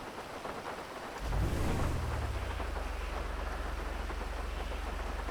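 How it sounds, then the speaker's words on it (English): Rain hisses steadily in the GTA 5 Online video game while a low rumble of thunder swells and rolls on, loud and continuous. "Of course it's raining."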